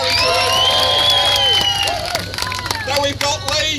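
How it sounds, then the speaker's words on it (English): A festival crowd at the Great British Food Festival cheers for a chilli-eating contestant, with loud massed shouting and whoops, high children's voices among them, swelling at first and then breaking into scattered yells. "Big cheer for Gary if you want Gary to win."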